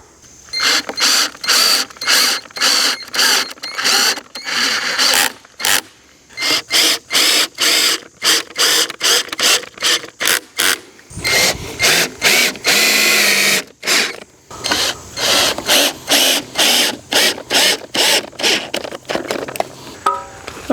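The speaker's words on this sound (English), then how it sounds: "now let's just start screwing these pieces on" Power drill drives screws into wooden pieces on a firewood shed frame, a series of loud whirring bursts of a second or so each, separated by short pauses, with a few longer runs.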